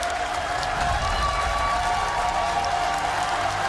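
An esports crowd at an Apex Legends finals stage applauds and cheers Apex Legends champions in a steady, even roar of clapping and voices that holds throughout.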